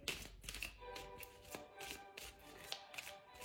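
Tarot cards being shuffled for a reading, a quiet rhythmic series of riffling, papery flutters repeating about every half second, close and soft with no talking.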